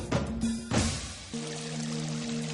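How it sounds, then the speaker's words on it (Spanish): San Rafael waterfall in the Cayambe Coca reserve, a broad steady rush of falling water, continuous and fairly loud, with a brief louder surge near the start and a faint tonal hum underneath. "Cascada de San Rafael."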